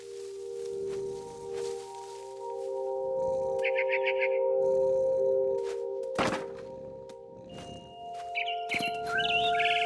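Scared barn swallow in What Remains of Edith Finch, chirping in quick fluttering bursts near the middle and end, mixed with thumps and rustling over a steady tonal game ambience.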